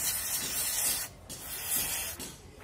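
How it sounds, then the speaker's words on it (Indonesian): Cleaner sprayed in steady hissing bursts onto a motorcycle starter dynamo, close and loud, with two short pauses between the long sprays. "Kita langsung semprot aja pakai cleaner ya."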